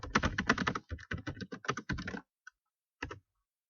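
Rapid typing on a computer keyboard, a quick run of close, crisp keystrokes that slows into a few scattered taps before a final short burst.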